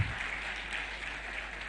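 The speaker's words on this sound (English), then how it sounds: "Maybe we can give better round of applause to Honorable Chris" Applause from a conference audience at an EACO assembly greets Uganda's Minister of ICT, a soft, even patter of clapping continuing throughout.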